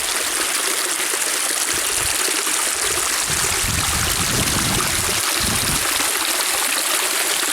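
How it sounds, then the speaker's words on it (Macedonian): Mountain stream water flowing down from Jakupica peak near the Bistrica, a steady, close, continuous rushing and splashing that fills the whole stretch with no pauses. "Оваа вода доаѓа од врвот на Јакупица."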